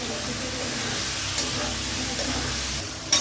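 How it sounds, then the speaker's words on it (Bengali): A ginger and green chilli paste masala being fried in oil for a mutton liver chorchori, giving a steady, even sizzle and hiss from close by, with a faint scrape of stirring. "এবারে এই মশলাটা দিয়ে ভালো করে কিছুক্ষণ কষাবো, যতক্ষণ না তেল ছেড়ে যাচ্ছে"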